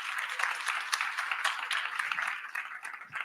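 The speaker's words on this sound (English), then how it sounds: "clap for yourselves because y'all look good" Crowd applause at an arts salon event, a steady wash of many hands clapping throughout, moderately loud and continuous with no talk over it.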